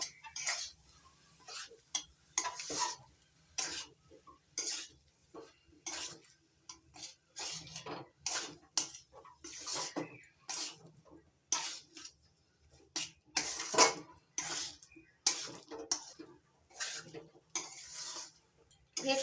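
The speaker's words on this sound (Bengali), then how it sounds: "পনির দিয়ে আবারও 3-4 মিনিট নাড়াচাড়া করে নেব।" Spatula stirring grated paneer with pointed gourd and spices in a pan, a steady run of scraping, clinking strokes against the metal at a brisk rhythm, close and fairly quiet with no talk.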